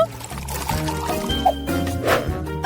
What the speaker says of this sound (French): Versons le lait dans le pot.